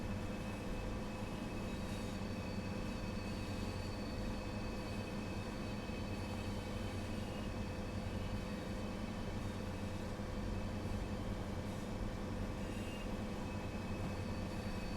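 A Pacer diesel multiple unit runs on the Berninalinie mountain route in Train Sim World 4, giving a steady, continuous engine drone with rolling wheel rumble and tonal whine, unbroken from start to finish.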